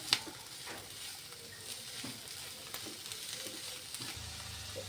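Cauliflower greens being stirred in a pan with sugar and turmeric, a quiet sizzle of frying with soft scraping stirs and occasional light taps, no voices.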